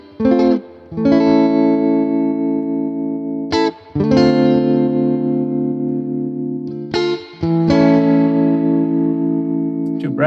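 Electric guitar played through a Fender amp simulation in AmpliTube 5 with the amp reverb switched off, sounding three sustained, chord-like passages, each left ringing several seconds before a brief gap and a fresh strum, with no talk over it.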